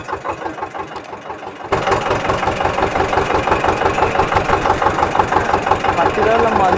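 An Eicher 312 tractor engine chugs along a rough dirt road in the early morning, a loud, steady diesel thump that surges in volume partway through, with a voice talking over it.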